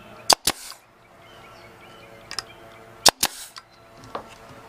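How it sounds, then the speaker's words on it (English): A nail gun fires into wooden cornice boards for an RV, giving two pairs of sharp, close, loud pops spaced a few seconds apart, with fainter clicks and taps of handling between them. "We're gonna nail gun this together."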